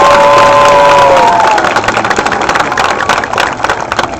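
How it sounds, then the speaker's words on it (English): At a sea lion training show, the audience erupts in loud cheering and applause with children shouting, close and energetic, the crowd noise swelling after an opening whistle-like tone and staying busy to the end. "So everybody give Charlie a round of applause."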